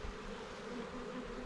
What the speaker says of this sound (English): he keeps saying these bees are incredibly calm